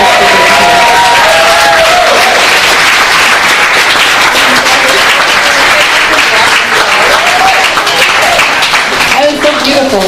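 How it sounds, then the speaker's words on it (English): A dinner audience applauds loudly and steadily in a hall, with dense clapping and some cheering that fill the whole stretch and hold at about the same level throughout. "Let's have another applause for Chandra, Rick, and Danielle."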